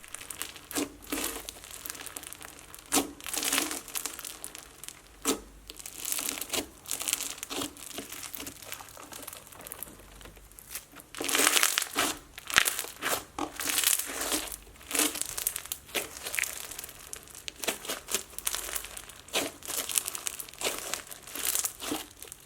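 Bingsu bead slime is handled and squished close up, giving dense crinkly crunching and crackling pops in uneven bursts that swell louder midway, with no talking.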